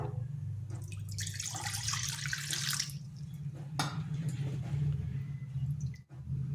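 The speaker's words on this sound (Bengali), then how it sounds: "নিয়ে নিচ্ছি জল" Water is poured into a kadai set on the stove for making semolina pitha. It comes as a splashing rush for about two seconds, then a shorter second pour, over a low steady hum.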